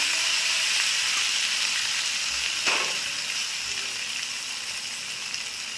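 Potatoes and ridge gourd sizzle in hot oil with nigella seeds and green chillies, a bright steady frying hiss close by with one brief clatter near the middle and no voices.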